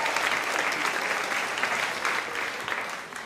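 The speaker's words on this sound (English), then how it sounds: "let's get applause to everybody who went up tonight because you all deserve it" Steady applause from a storytelling-night audience, a close, continuous wash of clapping lasting a few seconds without break, fairly quiet overall.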